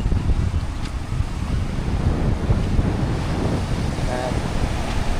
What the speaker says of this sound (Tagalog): Isang alon.